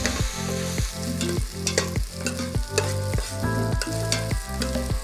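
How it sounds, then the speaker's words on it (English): Onions frying in olive oil in an Instant Pot, a steady sizzle broken by regular scraping stirs, close and fairly loud. "So frying the onions is going to take a little while"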